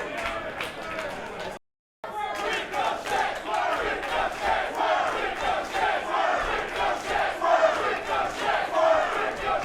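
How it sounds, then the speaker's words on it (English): A wrestling crowd roars and shouts continuously inside a nightclub in Orlando, loud and dense, with a brief silent gap near the start before the cheering resumes at full volume. "Crowd's fired up here at Guilt Nightclub in Orlando."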